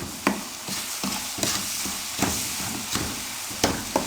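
A spoon stirs beaten eggs into semolina halwa in a sizzling pan, with a steady frying hiss under regular scraping strokes that land roughly every half second to second, close and clear.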